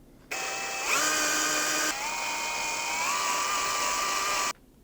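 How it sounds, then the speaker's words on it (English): A power drill whines steadily through a guitar body for about four seconds, its pitch stepping up and then settling as the bit bites in. It is close, loud and alone, with no voices. "So I'm actually going to drill this out with a drill bit that will do that."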